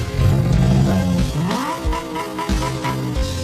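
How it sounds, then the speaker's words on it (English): V10 engine in the video game Car Company Tycoon starting and revving, a loud close roar with rising and falling pitch sweeps and sharp throttle blips. "There is an engine start button, and we can hear the real sound of a V10 engine"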